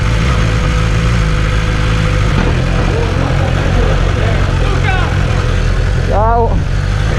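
A 2019 BMW S1000RR motorcycle idles loud and close with a steady throbbing rumble, while someone talks over it and a couple of brief squeaky chirps cut through near the end.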